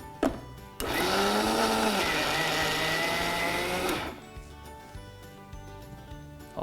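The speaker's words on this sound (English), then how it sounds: "Now all of this needs to be ground coarsely." A mixer grinder whirs loudly for about three seconds, coarsely grinding a mixture of boiled chickpeas, mint, coriander, chopped onions, salt, pepper and cumin, then stops abruptly.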